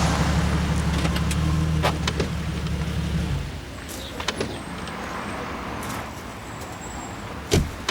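A car engine idles close by with a steady low rumble for about three seconds, then cuts off, followed by scattered light clicks and a soft door thud in a quiet outdoor setting.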